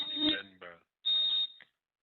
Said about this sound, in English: I'm having some alarm going on in my background here.